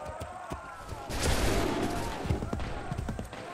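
Musket volley gunfire in Assassin's Creed 3: sharp cracks, then a dense roaring burst of shots fired together, followed by scattered reports with battlefield noise and voices in the mix.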